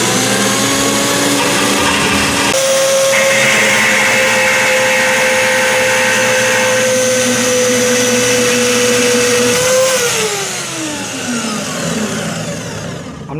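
A portable band saw runs steadily with a loud motor whine and blade hum while cutting through material, the tone dropping as the cut finishes and the saw winds down near the end.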